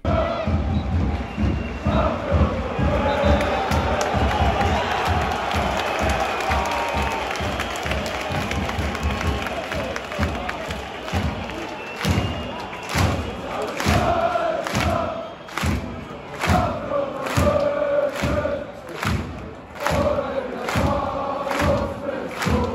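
Home fans of Hansa Rostock applaud their players in a football stadium after the final whistle of a 2-0 home defeat to Schalke. A dense, roaring crowd sound of steady clapping with thuds and scattered shouts continues throughout.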